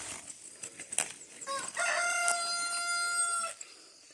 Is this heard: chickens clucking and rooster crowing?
yes